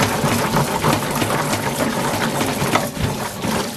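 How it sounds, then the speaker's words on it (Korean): Jerusalem artichokes are washed under running tap water, giving a steady moderate splashing and gushing that carries on throughout with no speech. "이거 계속 씻으면은 껍질이 벗겨지면서 갈색물은 계속 나오거든요"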